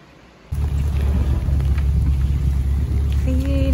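Rain falls during a soybean harvest feeding run, a sudden dense wash of close, loud rainfall and rumbling noise that starts abruptly and continues steadily, with a brief tonal whine near the end.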